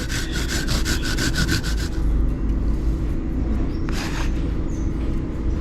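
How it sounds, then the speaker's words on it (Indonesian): Garlic and ginger are rubbed over a hand grater in quick, rhythmic rasping strokes, close and steady, with a brief pause and a few scrapes near the end. "Kita di sini haluskan dulu bawang putih dan jahenya. Ini bisa diulek, tidak apa-apa, tapi di sini saya parut."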